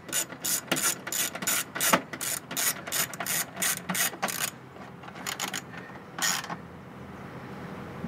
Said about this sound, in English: Now you can go around and tighten all the rest of the screws.